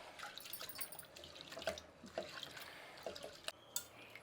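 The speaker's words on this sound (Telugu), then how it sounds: "ఇప్పుడు దీన్ని బాగా కడుక్కునేస్తాము." Tap water runs and splashes in a sink as lentils for sambar are rinsed by hand, with irregular sloshing and drips, fairly close and moderately soft.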